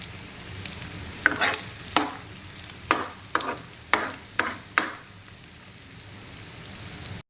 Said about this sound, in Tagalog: Tunawin lang po natin yung butter.